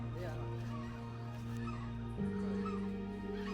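Chickens on a Colombian coffee farm cluck and squawk nearby in a short burst, their calls overlapping with a steady low hum in the background.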